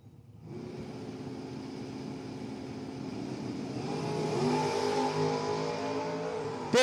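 An 82 Camaro drag race car launches off the line and accelerates hard, its engine roar building steadily in pitch and volume at close range, alone without commentary.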